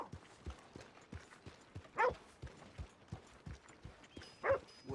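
Horse hooves from Red Dead Redemption 2 clop in an even walking rhythm, close and fairly quiet, with a couple of brief louder animal calls mixed in.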